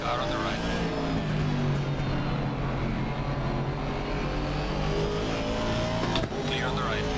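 Race cars in the Assetto Corsa Competizione video game drone with a steady, loud engine roar as cars run side by side on a circuit, while a driver talks over the engine noise.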